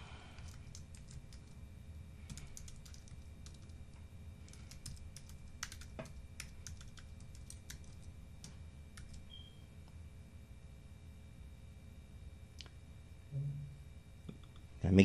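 Password being typed on a computer keyboard, quiet irregular clicks and taps in short bursts over low room hum, ending with a couple of louder knocks.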